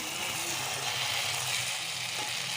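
Tomato, green chilli and cumin paste frying with boiled peas in a pan for Bengali mustard rui fish curry gives off a close, loud, steady hissing sizzle that runs unbroken throughout, with no talking.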